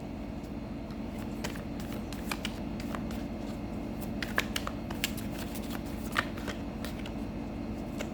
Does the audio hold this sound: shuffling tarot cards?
yes